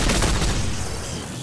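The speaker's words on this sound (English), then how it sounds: "Suppressing fire!" Dense, loud suppressing gunfire in the shooter Rogue Trooper Redux, a steady barrage of overlapping close shots that eases slightly toward the end.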